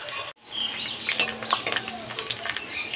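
Chopped onion fries in hot oil in a pan for homemade chicken biryani, a steady close sizzle with crackling spits and brief scraping, no talking.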